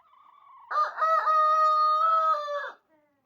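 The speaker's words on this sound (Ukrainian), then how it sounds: "Ось подивіться на курей." A rooster crows loudly once, a long drawn-out call rising and holding before breaking off, with faint clucking just before it.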